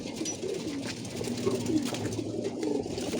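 Female pigeons in a loft, mid-moult, cooing in soft, overlapping rolling calls that continue steadily throughout, moderately close, with no talking.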